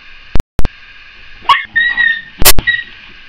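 Two dogs, Penny and Bibi, scuffle in an office, giving a few sharp close barks and yips with squeals in between, loud and short bursts with quiet gaps.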